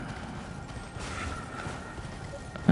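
Horse hooves clip-clopping in a steady gallop across an Elden Ring snowfield, a continuous rhythmic thudding under wind-like noise, moderately loud throughout with a sharp hit at the very end.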